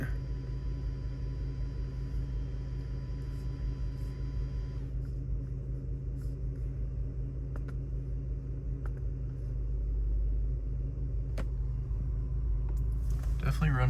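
A V10 engine in an Audi D3 S8 idles roughly with a random multiple misfire, a low uneven rumble running throughout, while a person talks over it and a few sharp clicks land near the end.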